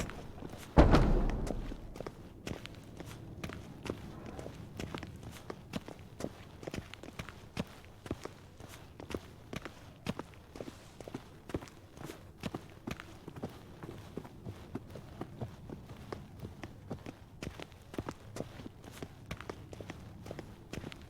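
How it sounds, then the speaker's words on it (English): Quiet, regular footsteps in The Witcher 3 patter on for about twenty seconds after a single sharp thump near the start, faint and steady with no voices. "Footsteps."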